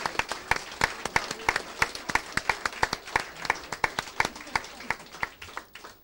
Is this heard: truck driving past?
no